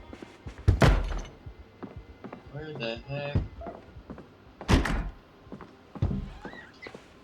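A zombie bangs in the video game Project Zomboid, producing a series of dull thunks and thuds like blows on a door, scattered irregularly while someone speaks briefly.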